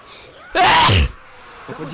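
A single loud, forceful human sneeze bursts out near the mic and lasts about half a second, followed by a faint voice in the background.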